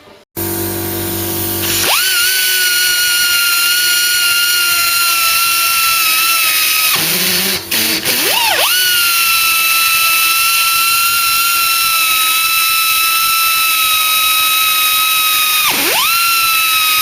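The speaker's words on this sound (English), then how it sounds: "So I want to just come in slowly on the die grinder." A pneumatic die grinder fed by an air compressor, used in a Ford Cortina Mk3 restoration, whines at a steady high pitch, drops away briefly around the middle, then spins up again and dips once more near the end.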